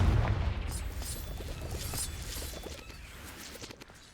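Confringo fire-blast spell in Hogwarts Legacy on PS5, a heavy booming explosion up front followed by crackling, popping debris and a rumbling tail that fades over a few seconds.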